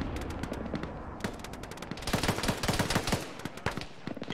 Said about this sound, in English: there's some sort of auto cannon to the northwest beyond the hill.